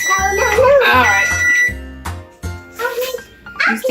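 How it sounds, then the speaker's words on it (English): A kitchen timer alarm rings with steady electronic tones, its loud repeating pulses running under a child's and an adult's close talk in a home kitchen while Halloween cookies are being made. "let's turn off the timer"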